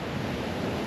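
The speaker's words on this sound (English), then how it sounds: "the waves like all smash in different directions" Ocean surf breaking over reefs on a beach at Galle, Sri Lanka, heard as a steady, dense wash of roaring waves with some wind across the microphone, continuous and fairly close with no voices.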